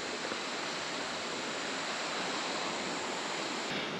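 Continuous rushing water in a forest at Springbrook after heavy rain, a steady broadband wash like a stream or small cascade, even in level and moderately faint, with no talking.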